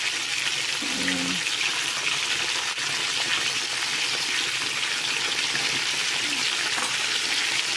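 Chicken wings frying in a pan of hot oil, a steady dense sizzle that holds continuously throughout, with a faint brief thump near the start.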